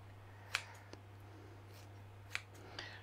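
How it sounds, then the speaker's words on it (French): Kitchen scissors snip raw beef into strips, giving two or three sharp, quiet cuts spaced apart over a low steady hum, with no one speaking. "c'est beaucoup plus facile de couper en lamelles votre bœuf avec les ciseaux que avec un couteau"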